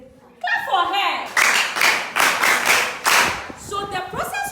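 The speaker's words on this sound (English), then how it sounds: "Clap for her." A classroom group claps for a student, several bursts of close, bright hand-clapping that swell and fade over a few seconds, with children's voices and light laughter mixed in and a teacher's voice at the start.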